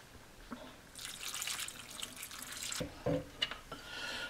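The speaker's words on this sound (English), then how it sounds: "by pouring our sauce in." Sauce poured into a pan of Boston baked beans headed for the slow cooker, a thick wet pour running steadily for a few seconds with a couple of soft splats and drips near the end.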